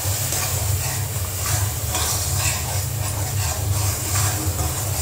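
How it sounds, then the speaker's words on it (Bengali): Spices and chicken being sautéed in a pan sizzle loudly and continuously, with a constant hiss and rhythmic scraping of stirring and a low burner rumble beneath. "মশলা কষাইতেছি।"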